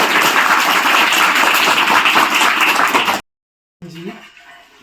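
Loud audience applause at a school education board farewell ceremony, dense close clapping that stops abruptly, then a brief faint patch of sound after a short silence.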